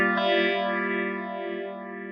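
An electric guitar rings out through an MXR Phase 90 phaser pedal, one sustained chord whose tone sweeps slowly as it decays over about two seconds, with no speech.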